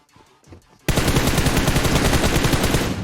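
Sustained automatic gunfire in the mobile battle royale game PUBG Mobile erupts after a quiet moment, loud and close, a dense continuous rattle of rapid shots lasting a couple of seconds.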